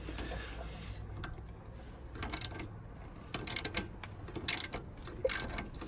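Ratchet wrench clicking in short bursts while backing out a shock bolt on a Jeep XJ suspension, close and distinct, with quieter mechanical handling between the bursts.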